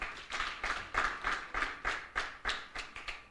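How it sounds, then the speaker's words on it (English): At a youth agricultural conference, a few people clap for the panel in slow, regular, separate hand claps, about three per second, faint and somewhat distant, with no talking. "let's give the panel a big hand clap"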